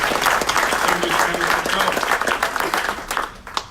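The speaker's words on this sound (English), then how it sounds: "One more big round of applause." At a city council meeting, a room applauds wrestling champions with loud, dense clapping from many hands, with brief voices underneath, tapering near the end.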